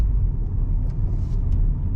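Car engine in first gear of a five-speed manual, a steady low rumbling idle-to-rev drone held close and fairly loud throughout, with no clear climb in pitch.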